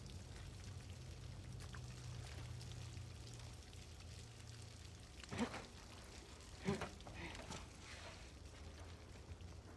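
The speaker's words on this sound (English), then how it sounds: "Check behind the waterfall for treasure." Waterfall in The Last of Us Part 2, a steady, moderately loud rushing wash of falling water that runs throughout, with a couple of brief louder splashes partway through.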